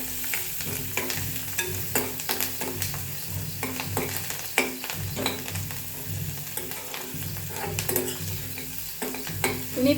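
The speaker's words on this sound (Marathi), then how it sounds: "चांगला परतून घेऊया आपण" Coriander and spices sautéing in a hot tempering for amti, with steady sizzling and frequent spoon scrapes and stirs against the pan, close and continuous.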